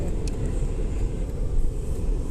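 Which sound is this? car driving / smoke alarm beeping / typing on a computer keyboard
car driving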